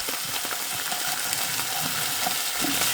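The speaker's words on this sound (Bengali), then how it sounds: "আর ফুলকপি আর আলু দিয়ে এই যে কষাই নিচ্ছি" Cauliflower and potatoes sauté with turmeric, onion, garlic and dried chilli paste in a pan, giving a dense, continuous close sizzle with faint scraping of stirring and no talking.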